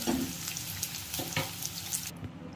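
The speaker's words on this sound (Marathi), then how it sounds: "हे कांदे तेलामध्ये टाकून घ्यायचे आणि ह्या कांद्याला चांगला लालसर रंग येऊस्तर तळून घ्यायचे" Onions frying in hot oil for chicken dum biryani, a steady close sizzle with occasional stirring scrapes and clicks, no talking.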